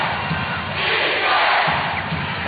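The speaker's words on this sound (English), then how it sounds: "The crowd yelling for defense." A basketball arena crowd at a 1996 NBA game between the Seattle SuperSonics and Houston Rockets roars steadily, yelling for defense in a loud, continuous wall of voices with no pauses.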